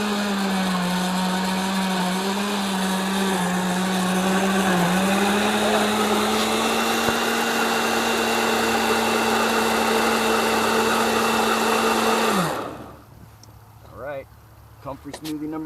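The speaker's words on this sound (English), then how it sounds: "I'm going to go ahead and finish this process by blending all this material up" A blender runs steadily, pureeing comfrey leaves into a soil infusion with a loud droning motor whine and a constant pitch, then shuts off near the end, leaving quiet background.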